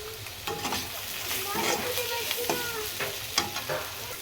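Spice paste frying in a pan, stirred with steady scraping strokes over a continuous close, loud sizzle, with sharper clatters every second or so.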